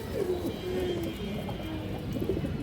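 Old-breed Khoragola pigeon cooing nearby in repeated soft, throaty phrases over a busy background hum of other birds, moderately loud, no talking.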